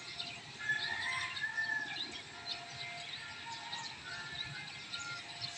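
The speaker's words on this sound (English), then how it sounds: "Listen to the birds." Birds chirp and sing at sunrise, several high calls scattered over a steady, fairly faint outdoor background with no talk.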